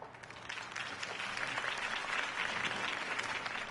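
Steady applause from a sizeable crowd, many hands clapping together in a dense, continuous wash that holds for several seconds.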